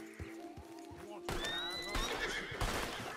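A horse in Red Dead Redemption 2 gives a sharp whinny amid hoofbeats and in-game action sounds, with voices in the background.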